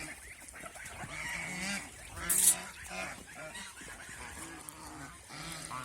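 Geese and nearly grown goslings honking at a goose farm, a steady muddle of nasal honks and calls close by, with one sharper cry in the middle.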